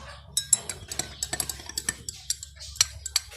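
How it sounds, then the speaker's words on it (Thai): A metal spoon stirs Chamali tea in a glass, ringing out in a quick, uneven series of sharp, bright clinks against the sides, close and alone. "เสร็จแล้วก็ใช้ช้อนคนนะคะ"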